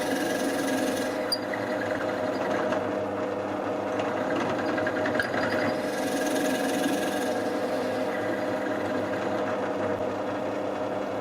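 Small drill bit boring into wood while a wooden desk organiser is built, a steady continuous mechanical whir with rasping friction, loud and close, running alone without talk throughout.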